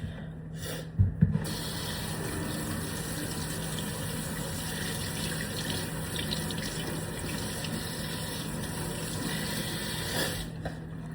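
Tap water runs steadily into a kitchen sink while celery is washed for a Thanksgiving meal, a continuous close hiss that lasts nearly the whole time with a couple of brief knocks near the start.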